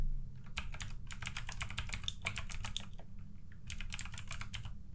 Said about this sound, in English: or you can just type the whole name